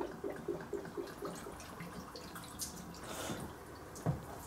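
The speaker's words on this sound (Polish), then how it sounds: "Coś się kurwa leje." Coolant leaking from a Volvo 240 during a radiator replacement, a faint trickle and drip of liquid with a few louder splashes near the end, heard under a steady background hiss.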